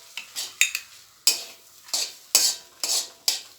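Ingredients for a traditional chicken curry are sautéd in a pan. A spoon scrapes and stirs in short, irregular strokes over a faint sizzle, close up, with no talk.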